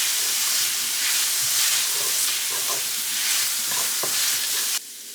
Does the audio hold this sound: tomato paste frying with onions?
yes